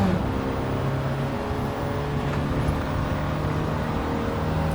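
A truck driving in Gran Turismo 7, its steady engine drone holding at an even level throughout with no talking.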